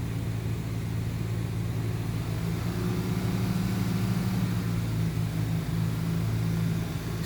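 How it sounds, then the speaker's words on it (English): A 2007 Honda Pilot engine with a no-heat fault runs in a steady, low, muffled drone, a fairly quiet continuous hum with no clear rise or fall and no voices. "as I'm revving the engine"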